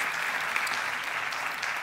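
Steady applause from a large crowd, dense and even throughout, with no voices standing out.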